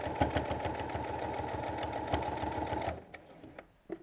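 A sewing machine stitches table runner seams in a fast, even rhythm for about three seconds up close, then stops, leaving a few faint clicks.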